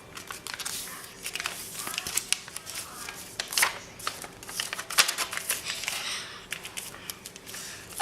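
Paper is folded by hand into an advanced paper airplane, with close, soft crinkles, creases and rustles coming in irregular bursts throughout and a few sharper snaps, with no talk.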